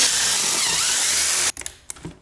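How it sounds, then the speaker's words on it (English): A power drill drilling holes for a tall suspension build whirs steadily at high speed for about a second and a half, then cuts off, leaving a few small clicks and knocks. "Drill these holes out a little bigger than you think you need them"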